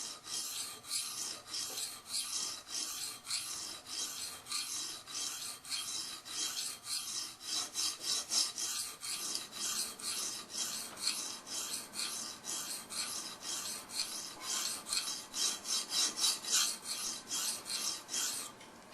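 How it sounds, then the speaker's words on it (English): A knife blade is reprofiled on a DMT extra coarse 120 mesh diamond sharpening stone, giving a rapid, regular series of harsh scraping rasps at close range with no talking. "we're going to go ahead and start on the DMT extra coarse 120 mesh stone"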